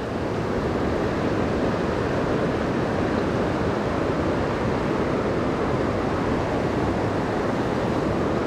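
Heavy pocket water in a Maine brook, a dense, steady rush of churning river water, loud and close with no break.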